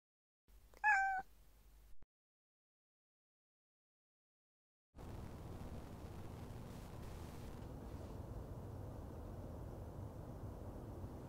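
A cat gives one short, clear, close meow with a rising, wavering pitch, followed by silence and then a steady hiss of background noise.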